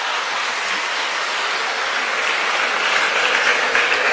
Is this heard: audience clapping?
yes